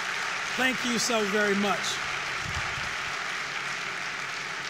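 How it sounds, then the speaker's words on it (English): An audience at the Vogtle 3 & 4 nuclear plant celebration claps in a steady, continuous wash of applause while a voice speaks briefly over it. "Let's give our workers across this company a big round of applause."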